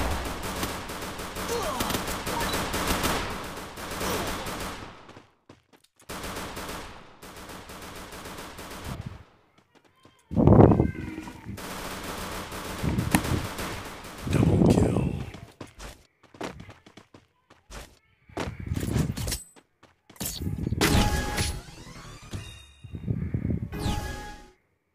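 Gunfire in the battle royale game Free Fire, with bursts of shots and loud impacts that come and go across the stretch, separated by quieter gaps and footsteps.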